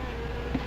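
Wasps buzz close by in a 1959 film scene, a dense droning hum lasting under a second with no talking.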